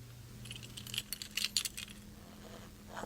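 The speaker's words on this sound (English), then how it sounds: "the jingling of keys joining them" A bunch of keys jingling in bright, irregular metallic bursts that peak midway, close by over a low steady hum, with no voices.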